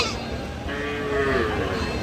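Cows moo at a busy rural cattle market, one drawn-out bovine call rising in the middle, set against a constant crowd murmur of people talking nearby.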